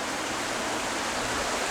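A small waterfall along a hiking and biking trail near Duluth, Minnesota, on Lake Superior, pours in a steady, dense broadband rush of splashing water, close and continuous with no voices.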